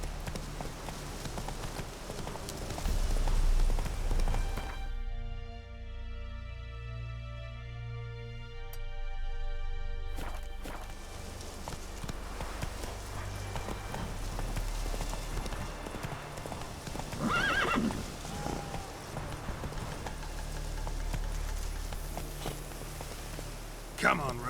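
In The Witcher 3, the horse Roach walks with steady clip-clop hoofbeats at close range over rain falling on the ground, briefly interrupted by a quieter tonal passage, with a voice speaking at times.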